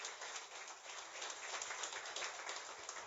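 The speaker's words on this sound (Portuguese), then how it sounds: "Uma salva de palmas para o Senhor Jesus." A church congregation applauds at the close of a service, a steady wash of many hands clapping together without a break and at a fairly quiet level.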